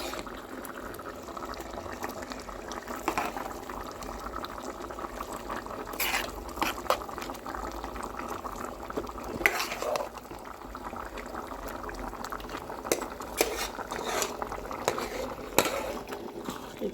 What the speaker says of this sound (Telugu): ఇప్పుడైతే రైస్ వేసేసుకుందాం.